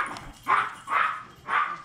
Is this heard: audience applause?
no